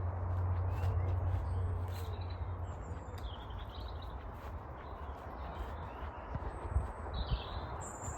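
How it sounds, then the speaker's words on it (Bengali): Birds chirp in a dense forest. The short, high tweets come scattered and fairly faint over a soft low background hum. "কিচির মিচির পাখির শব্দ।"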